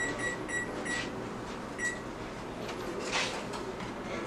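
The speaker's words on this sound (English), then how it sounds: "let me start with the oven. I need to preheat this to 400." An oven being set to preheat to 400 degrees gives a few short electronic beeps, a quick cluster followed by a single later tone, heard close over a low room hum with no talking.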